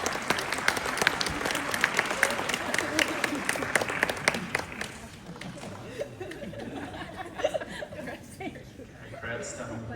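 Graduation ceremony audience at Monash University clapping and cheering, dense applause for the first five seconds before thinning into scattered claps and crowd chatter, with people talking throughout.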